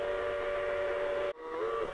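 A sound board for a garden railroad model train plays a steady steam-style whistle that holds a long tone, cuts off abruptly, then resumes more faintly over constant track rumble.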